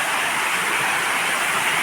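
Ethmanguda waterfall seen from the top, a steady, loud rush of falling water that stays even throughout with no pauses, alone with no voices.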